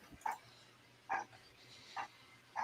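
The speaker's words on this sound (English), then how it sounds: "And my dogs are going off." Several dogs bark outdoors, four short sharp barks spaced about a second apart, fairly faint and distant with a low steady hum beneath.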